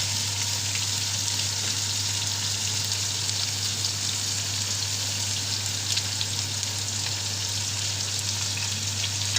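Chicken frying and sizzling in a pan while being browned for pulao, giving a steady, loud, continuous crackle and hiss with a constant low hum beneath and no talk.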